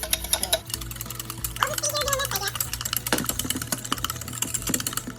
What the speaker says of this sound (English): So then I whisk until well combined, frothy, and lightened in color.